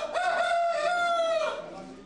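A single rooster crows once at an animal exhibition in Bistrița, a clear, drawn-out call lasting under two seconds, close by with a faint background hum.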